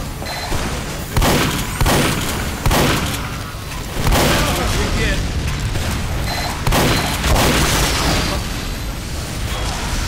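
Gunfire from multiple guns in Team Fortress 2, loud repeated shots and booming blasts in irregular bursts, with a voice talking among the explosions.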